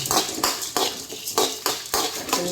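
Pepper and spices roasting in a pan on low to medium flame, a metal spoon scraping and clinking against the pan in repeated stirring strokes, close and clear with no talking.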